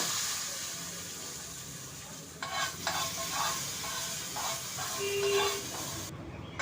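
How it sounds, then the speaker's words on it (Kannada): Fried curry leaf tempering poured and stirred into chutney, a soft sizzle with a few scraping stirs of a spoon, fairly close and moderately quiet. "ಸ್ಟವ್ ಆಫ್ ಮಾಡಿಬಿಟ್ಟು ನಾನೀಗ ಒಗ್ಗರಣೆನ ಚಟ್ನಿಗೆ ಹಾಕ್ಕೊಳ್ತೀನಿ"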